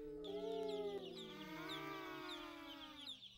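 Chickens cluck and call inside a henhouse, a close, fairly quiet series of rising and falling vocal notes lasting a few seconds.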